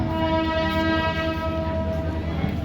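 Parli–Sangli DEMU Express pulling out of a station, its horn sounding a steady sustained tone over the low rumble of the moving train, fairly close and moderately loud.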